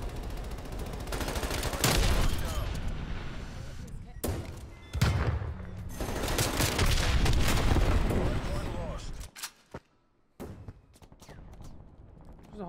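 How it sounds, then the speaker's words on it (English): Call of Duty Cold War Hardpoint match full of explosions and gunfire: loud booms and dense bursts of shots rolling in waves, with quieter lulls and scattered single reports toward the end. "There's a whole bunch of explosions."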